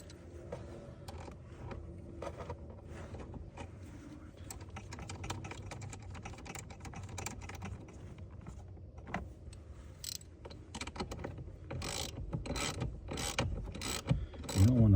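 Rapid ratchet clicks come from tightening battery hold-down bolts on an Audi Q7 3.6L Quattro, close and fairly quiet, in bursts that grow louder toward the end.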